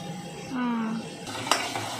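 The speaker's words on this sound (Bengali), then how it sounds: "টমেটো ভাজছে।" Tomatoes frying in oil in a pan give a steady, close sizzle while being stirred, with a soft scrape and a brief utensil clink, and faint voices in the background.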